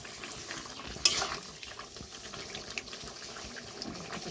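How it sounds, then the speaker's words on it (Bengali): Jackfruit curry is stirred in a pot, with soft, close scraping and wet shuffling of a spoon through the thick mixture and one brief metallic clink near the start. "নাড়াচাড়া করে দিলাম।"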